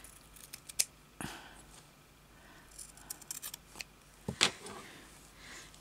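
Scissors snip embroidery material for a slow-stitch needle book, with a couple of short, sharp cuts heard close up against a quiet background.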